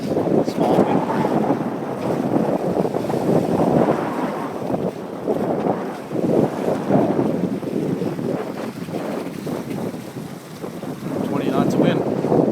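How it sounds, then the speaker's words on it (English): A sailboat running with two reefs tucked in on the North Channel in 20-knot wind, with steady rushing wind buffeting the microphone and water noise surging loudly and continuously. "This is sailing with two reefs on the North Channel."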